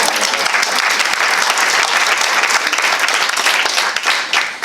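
Sustained, dense applause from an indoor audience at a staff achievement awards ceremony at a Ljubljana health centre, loud and steady throughout with no talking.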